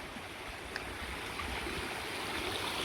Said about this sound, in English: Sometimes in the winter, this is a bit of a raging torrent and you can't cross